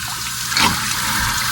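Cold water runs in a steady hiss, close and fairly loud, with a brief splashing surge partway through.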